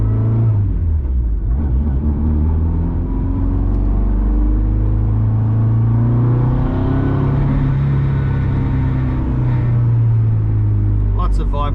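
A turbocharged Honda Civic EK D16Y engine rumbles loudly from inside the cabin while driving onto the freeway, its low drone rising and falling as it accelerates, with steady road noise throughout.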